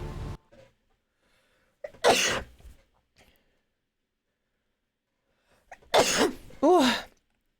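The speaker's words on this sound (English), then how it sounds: "Sneeze." Two sharp sneezes from one person, separated by several seconds of near silence, the second a loud burst with a voiced tail, close to the microphone during a Hollow Knight: Silksong game stream.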